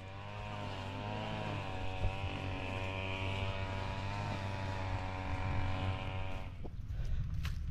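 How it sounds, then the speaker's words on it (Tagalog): A farm irrigation water pump engine drones steadily nearby with a strong, even hum and layered harmonic tones, then the pitch sags and the running note cuts off near the end as the engine is shut down. "tapos na tayo magpatubig, papatayin na natin yung makina"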